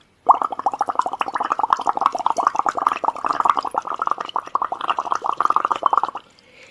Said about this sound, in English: Now we will blow air into this beaker.